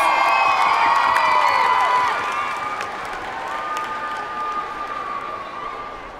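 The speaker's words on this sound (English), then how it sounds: "Give yourselves a round of applause" A crowd at a cheerleading finals competition claps and cheers, with high shrill whoops and shouting from young voices on top, loud at first, then easing into a lower, steady roar.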